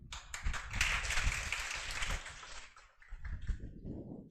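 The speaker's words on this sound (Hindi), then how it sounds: "जोरदार तालियों से स्वागत करें सर का।" A crowd at a Teacher's Day celebration claps for a teacher being welcomed, a dense burst of applause that swells and tapers, then a smaller patter of clapping, moderately distant and without voices.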